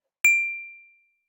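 A single simulated bell strike, generated in Matlab, rings out with a bright, pure tone that decays slowly over about a second, alone in silence.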